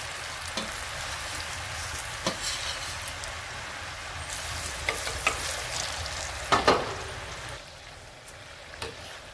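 Chakli frying in hot oil on a medium flame, a steady dense sizzle and bubbling hiss, close and continuous, with a few faint clinks and no talking.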